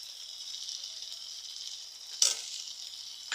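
A steady, soft sizzle of ginger and garlic frying with ground cumin, coriander, turmeric, Kashmiri chili and hot chili powders for a pangas fish curry, broken by a louder hissing burst as more goes into the pan.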